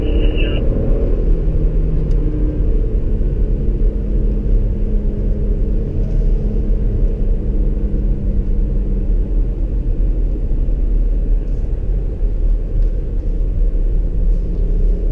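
A Porsche Macan S lapping a track at a driving event gives a constant loud low engine and road rumble from inside the cabin, steady throughout with no sharp revving.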